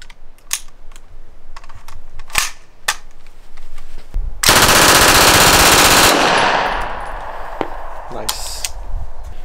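Full-size Uzi submachine gun fired at a range, a loud continuous burst of rapid automatic fire lasting about two seconds, set between scattered single sharp cracks of nearby gunfire.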